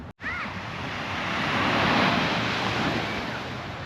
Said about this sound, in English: But the waves here are really small